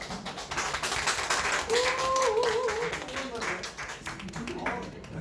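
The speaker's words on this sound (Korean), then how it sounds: "큰 박수로 모시겠습니다." An audience at a health-supplement product presentation claps to welcome a speaker, with scattered, fairly faint claps under overlapping talk.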